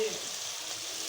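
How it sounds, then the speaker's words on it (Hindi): Chicken frying in a pan as a meat curry with vegetables is being prepared, giving a steady, soft, hissing sizzle that runs evenly throughout without speech. "पहले हम डालेंगे इसमें चिकन को अच्छी तरह से पकाएंगे"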